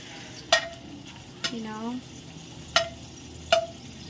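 Garlic browning in cooking oil for a shrimp dish, a quiet low sizzle punctuated by four sharp clinks of a utensil against the pan, with a short voiced sound in between.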